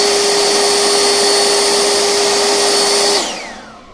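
An Oregon lithium battery leaf blower runs at full turbo power, a loud, steady, high whining roar with a strong tonal hum that winds down near the end.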